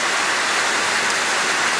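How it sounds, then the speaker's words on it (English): Outdoors, rain pours down in a steady, dense hiss that stays loud and even throughout. "the rain is starting to come down a bit harder"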